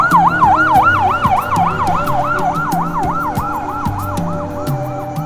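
Ambulance siren wailing loud and close in a steady rising and falling cycle at a market fire in Islamabad, over a low rumble of idling vehicles and crowd noise.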